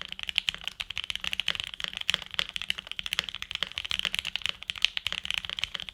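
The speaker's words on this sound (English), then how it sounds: "As for the sound of this keyboard, this is where I was pretty blown away" Fast, continuous typing on a Forever65 65% mechanical keyboard with JWK switches and FR4 plate in gasket mount: dense, crisp keystrokes clacking in an even, rapid stream, close and clear with no talking.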